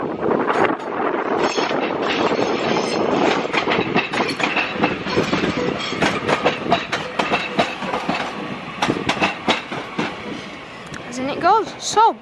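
Class 67 locomotive 6755 Queen's Messenger pulls out of Crewe station, a loud continuous rumble with rapid clattering wheel beats and wind buffeting the microphone, while a voice talks near the end.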